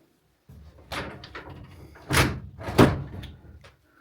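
A sliding door in an apartment rolls along its track and shuts with a couple of close, solid thuds, with no speech over it.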